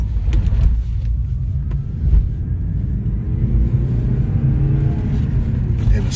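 Steady low road rumble from inside a moving Porsche 944 Turbo on worn tires, overdue for service, a continuous droning hum with slight wobble, no talking.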